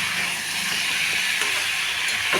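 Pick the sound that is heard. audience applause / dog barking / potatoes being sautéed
potatoes being sautéed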